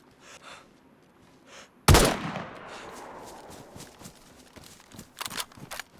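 A single loud, sharp gunshot in the video game DayZ cracks out and rings off in a decaying tail, followed by faint footstep-like clatter and a few quieter thuds.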